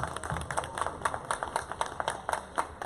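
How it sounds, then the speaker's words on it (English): A crowd at a Power Rangers in Space 25th anniversary reunion panel claps steadily in a room, a dense patter of hands that holds an even level throughout. "Round of applause to all of you guys."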